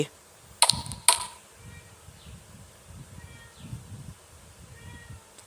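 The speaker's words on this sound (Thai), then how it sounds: "ตะกี้แมว" A pet cat lets out two sharp, loud meows close by near the start, then only quieter low sounds and faint background noise follow.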